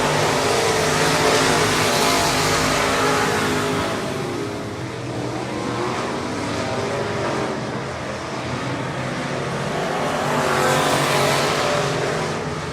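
Race cars circle the dirt track at Cotton Bowl Speedway, a loud, continuous engine roar that swells as cars pass close, dips in the middle, then rises again, with no voices over it.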